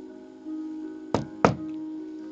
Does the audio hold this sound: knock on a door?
yes